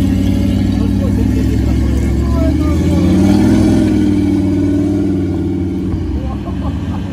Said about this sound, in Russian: А Гранд-Чероки едет.